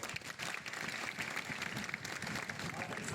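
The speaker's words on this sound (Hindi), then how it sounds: "एक बार अपने लिए जोरदार ताली।" Applause from an audience of municipal corporation employees seated at an official gathering, a steady moderately distant clatter of many hands, fairly faint, with some voices mixed in.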